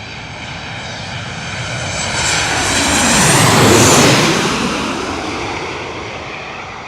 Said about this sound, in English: Boeing 737-800. Oh yeah, listen to these engines now